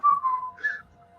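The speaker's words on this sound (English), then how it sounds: "don't whistle" A person whistles a short, clear tune of a few gliding notes, close and alone, lasting about a second.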